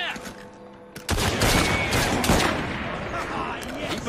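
A sudden volley of musket and rifle fire breaks out in the Victorian London setting of Assassin's Creed Syndicate, a loud burst of overlapping shots that rings and rattles away over several seconds, with voices shouting.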